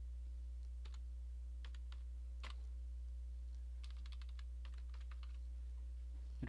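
Fingers type an ID on a computer keyboard in quiet, sparse bursts of soft key clicks over a steady low electrical hum, faint and with no voices.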